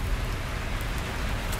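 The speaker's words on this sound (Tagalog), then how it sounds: "Ayan ang yelo." Hail and rain falling near a highway in Tokyo, a dense steady hiss of pellets striking surfaces with a low rumble of traffic beneath, continuous and close for a brief stretch.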